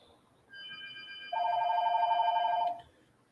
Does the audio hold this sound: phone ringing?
yes